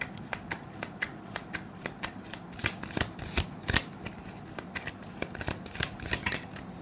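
A deck of tarot cards is shuffled close up, with a steady run of soft riffling flicks and taps repeating throughout, no voice over it.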